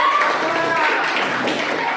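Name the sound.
children clapping hands in class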